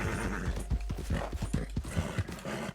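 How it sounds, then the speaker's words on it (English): A horse in Red Dead Redemption 2 galloping up to and jumping a fence, heard as a close, rapid run of rhythmic hoof clip-clops over a low rumble, with no talking. "Will this horse jump this fence?"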